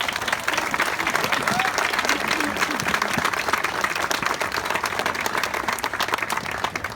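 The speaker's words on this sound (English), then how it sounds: "A big round of applause." A crowd applauds steadily for several seconds, dense clapping at even volume throughout, with no pause.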